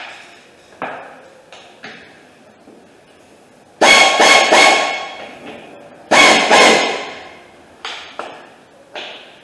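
Body bolts being tightened while a 1976 Volkswagen Beetle body is refitted in a workshop: loud metallic ratcheting and clanking in two strong bursts, with lighter taps and clinks between them.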